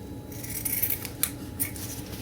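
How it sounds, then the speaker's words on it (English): Scissors snip through fabric scraps at close range, a few crisp cuts and rustles spaced over a couple of seconds in an otherwise quiet room. "I'm just going to cut some pieces of scrap off and layer them down"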